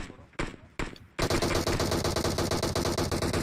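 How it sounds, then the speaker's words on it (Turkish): Gunfire in a mobile shooter game: two sharp single shots, then a long loud burst of rapid automatic fire that keeps rattling to the end. "Nereden vuruyor lan bu?"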